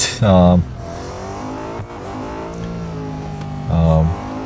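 BMW M5 racing at night on a Dubai track in the Real Racing 3 mobile game: two short, loud engine revs bracket a steadier engine drone, with a person talking over it.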